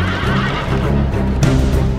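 Cavalry horses in a battle video game let out a loud, close, quavering neigh, with a second whinny rising near the end over faint hoof clatter.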